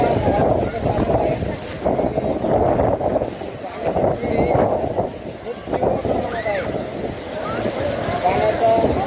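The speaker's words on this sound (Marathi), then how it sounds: "आपण या ठिकाणी पाण्याचा आवाज ऐकू शकता." Water rushing at Kapil Dhara waterfall, a continuous broad roar close by with wind buffeting the microphone and a person talking over it.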